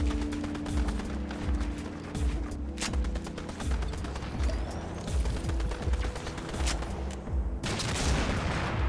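Continuous gunfire in a Fortnite match: dense rapid shots and bursts with booming impacts, loud and sustained throughout, with no voices heard.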